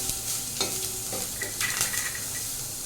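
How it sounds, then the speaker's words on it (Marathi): Cumin, chilli and bay leaves crackle and sizzle in hot oil as a tempering for dahi kadhi, a steady close hiss with a few sharper pops and stirring scrapes, no voices. "जिरं घालते. मिरची घालते. जे आपण तेजपत्ते घेतले होते ते घालते."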